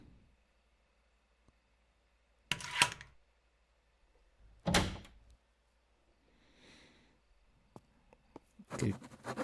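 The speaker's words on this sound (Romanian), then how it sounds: "acum pot să deschid ușa de la intrare" Front door being opened in the horror game Martha is Dead: a few sharp, close wooden clunks and rattles of a latch and door, separated by quiet pauses, with a soft creak in between.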